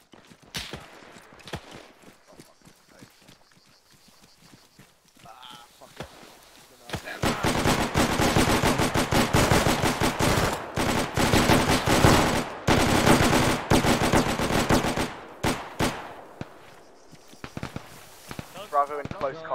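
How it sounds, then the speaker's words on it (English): Video game gunfire in a forest firefight, with sparse early shots giving way to dense, sustained rapid automatic bursts, loud and close, then thinning out, as a voice talks at the start and end. "Got shots in the forest"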